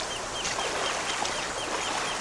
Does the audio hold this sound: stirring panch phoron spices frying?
no